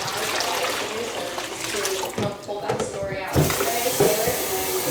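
Water dumped out of a container and splashing into a sink for rinsing, a steady pouring rush with a few sloshing bursts, close and fairly loud; a voice can be heard faintly at points.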